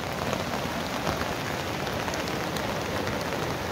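Heavy rain pours steadily during a flood in Kathmandu, near a bridge over the swollen Dhobi Khola river, a dense, unbroken hiss of water drumming on surfaces that stays even and loud throughout.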